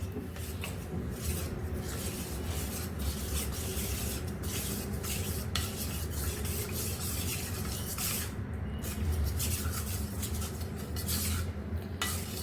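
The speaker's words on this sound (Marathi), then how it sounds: "हलवून घ्यायचं." A spoon scrapes and swirls steadily in a pot, mixing finely ground horse gram powder with water for Konkan-style pithi, a continuous soft rubbing and clinking close by with no talk.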